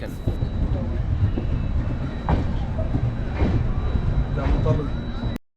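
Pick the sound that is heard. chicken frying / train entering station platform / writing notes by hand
train entering station platform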